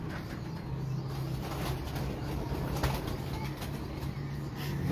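Pigeons at a pigeon fancier's loft give a low, steady cooing with bursts of wing flapping, close and continuous against a busy outdoor background.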